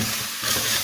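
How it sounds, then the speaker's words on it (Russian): Zucchini and cottage cheese sizzle in a pot while being stirred, a steady close frying hiss with soft scraping over a brief, quiet stretch. "Кабачки зашипели. Теперь интенсивно помешиваем."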